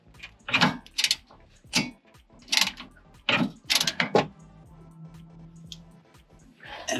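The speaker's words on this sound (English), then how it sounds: "And then I can put my socket wrench on." A socket wrench on an extension is worked while servicing a 4L80E transmission, producing a series of sharp metallic clicks and clacks in irregular bursts, close and fairly loud.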